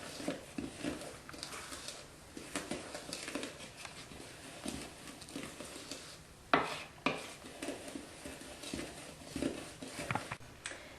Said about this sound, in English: just add that to your milk and yeast mixture. And then just mix it together